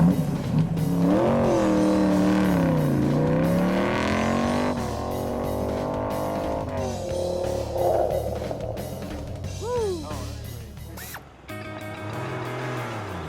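Race cars in the Z2Z race of the Silver State Classic on public roads, accelerating toward 200 mph; loud engine whine rising and falling through gear changes, with passing cars sweeping by near the end.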